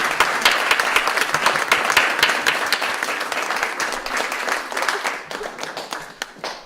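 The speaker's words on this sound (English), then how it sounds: "could we give all of our performers another big round of applause?" An audience at a spring student piano recital claps in sustained, dense applause that stays loud and then thins slightly toward the end, with no speech over it.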